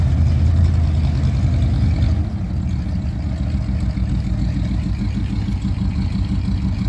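A pickup truck engine idles steadily with a low rumbling hum, slightly louder at first and then settling into an even drone.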